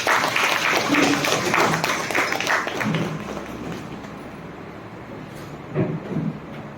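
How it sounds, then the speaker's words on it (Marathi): Applause from an audience at the opening of a school management committee training session, strong at first then fading into quieter room noise with a few scattered sounds. "सरांसाठी जोरदार टाळ्या होऊन"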